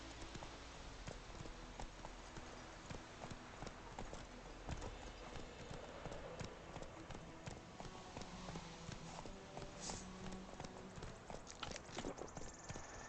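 Steady clip-clopping of Roach's hooves as the horse walks in The Witcher 3: Wild Hunt, rhythmic and continuous throughout, with a faint whinny and quiet game ambience underneath.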